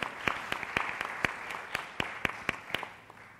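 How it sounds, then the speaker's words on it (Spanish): Applause for student speakers from the Universidad de San Martín de Porres, Chiclayo, at a psychology debate: sharp, separate claps in a fairly steady rhythm, sparse rather than a full crowd. "vamos a agradecer con un fuerte aplauso a nuestros ponentes"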